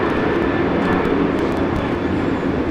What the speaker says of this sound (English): Korean Air flight 407 touchdown.